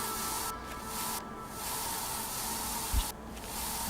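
Spray bursts from a sprayer watering garden plants in the survival game I Am Future, a few broad hissing puffs separated by quieter gaps, close and fairly loud with no talking.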